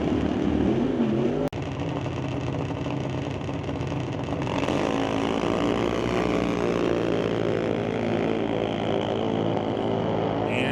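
Drag racing cars at Mission Raceway Park launch in an ET series race. Engines roar loudly and continuously, with a sharp crack early on, and the sound builds as the cars run down the strip.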